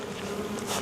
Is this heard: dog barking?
no